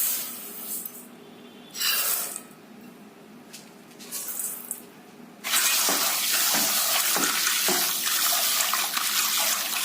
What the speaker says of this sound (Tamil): கழுவும் போது நல்லா இந்த மாதிரி பிசைஞ்சு கழுவிடணுங்க